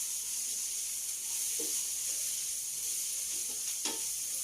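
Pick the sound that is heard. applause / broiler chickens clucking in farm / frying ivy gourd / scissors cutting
frying ivy gourd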